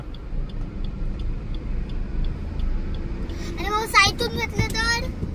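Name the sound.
car driving past on a flooded road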